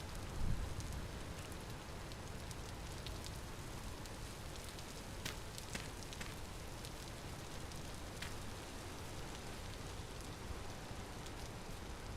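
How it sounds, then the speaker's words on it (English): Rain falling in the survival video game Vintage Story, a faint, steady wash of pattering drops with scattered brighter droplet ticks throughout and no talk. "Rain is going to be a pain in my ass."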